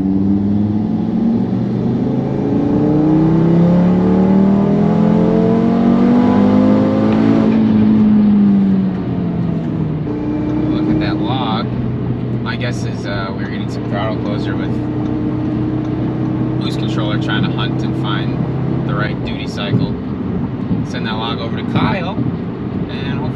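An Audi RS3 turbocharged engine, tuned with a boost creep fault, pulls hard under acceleration from inside the cabin, its loud drone rising steadily before a shift and continuing with wind noise while someone talks.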